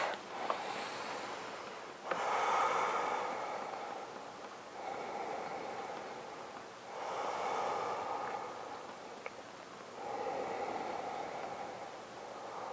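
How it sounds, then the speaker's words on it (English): Slow, deep breaths drawn in and let out during a yoga session while seated cross-legged in Sukhasana, several long airy inhale-exhale swells at a steady unhurried pace, close and soft with no talking. "Take 3 more deep breaths."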